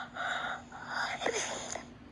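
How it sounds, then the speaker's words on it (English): A yawning vocal sound from the cartoon cat character in the My Talking Angela video game: a breathy, drawn-out, moaning exhale with a brief rising and falling tone in the middle, fairly soft and heard alone. "Stop yawning!"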